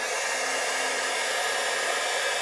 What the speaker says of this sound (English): you can just take your heat gun